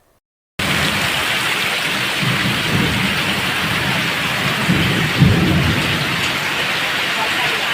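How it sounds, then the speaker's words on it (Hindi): Heavy rain pours steadily during a monsoon downpour in Gujarat, a dense unbroken hiss with low thunder rumbling underneath and a slightly louder rumble partway through. "पिछले कुछ दिनों से लगातार बारिश हो रही है"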